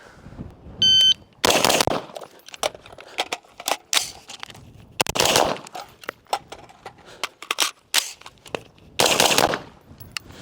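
Rifle gunfire from an HK rifle in a training session, as rapid bursts and single sharp shots in irregular clusters with short pauses between strings, loud and close.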